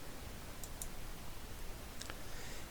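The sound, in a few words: mouse click applying settings in ArcGIS Pro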